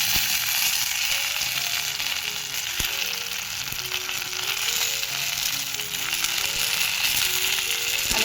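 Masala-stuffed brinjals fry in hot oil with a steady, dense sizzle and crackle that runs through the whole stretch, close and fairly loud, with faint clinks now and then.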